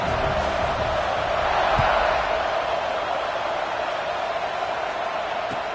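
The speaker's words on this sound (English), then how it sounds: "this crowd is buzzing after that last score" A football stadium crowd buzzing after a touchdown, a steady loud wash of distant voices and murmur with a slight swell of cheering near the start.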